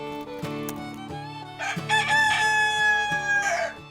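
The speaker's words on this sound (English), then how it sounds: "heard the rooster singing" A rooster crows, one long, loud call that builds and holds before trailing off, set against music in a Ukrainian fairy tale about farm animals sheltering together for winter.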